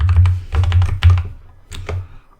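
Keystrokes on a computer keyboard as a password is typed, a quick burst of clicky taps, a short pause, then a few more presses, close and clear with no talking.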